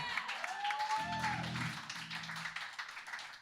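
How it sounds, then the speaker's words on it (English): A comedy club audience at a live show claps and cheers for a comedian and band, a brief burst of applause with a voice talking over it. "Give it up for Jason and the band."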